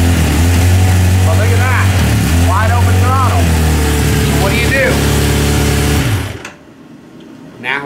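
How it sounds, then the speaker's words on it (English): A 2019 Kawasaki Ninja ZX-10R sport bike engine runs at a steady, loud idle with a low rumbling drone for about six seconds, then abruptly shuts off, leaving near silence with a faint thump at the end. "I'm gonna go ahead and start the bike."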